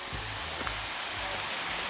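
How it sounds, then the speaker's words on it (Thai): Tad Mok waterfall in Doi Saket, Chiang Mai, pours in a steady, dense rushing hiss that fills the scene evenly from start to finish. "หันละเจอแล้วครับ น้ำตก ตาด หมอก"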